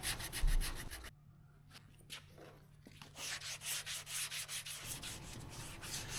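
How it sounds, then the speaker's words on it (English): A sanding block wrapped in 180-grit sandpaper rubs by hand across a car's split-bumper RS nose panel in quick, rhythmic back-and-forth strokes. A brief quiet pause comes before the close, scratchy strokes resume. "I came back with 180 on a firm block to just kind of get rid of some of those heavy sanding scratches"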